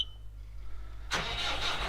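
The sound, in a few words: tractor engine starting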